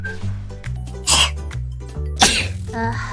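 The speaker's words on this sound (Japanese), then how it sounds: "あー、くしゃみした。" Two sharp sneezes burst out about a second apart, loud and close, over a steady musical tone in the background with no speech.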